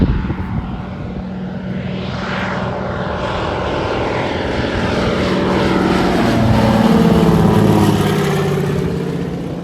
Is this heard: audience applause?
no